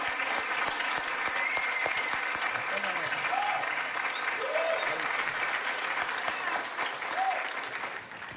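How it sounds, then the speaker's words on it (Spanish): Loud, sustained applause from a large stand-up comedy audience, steady clapping filling the whole stretch with some crowd noise and faint shouts mixed in. "Un aplauso fuerte."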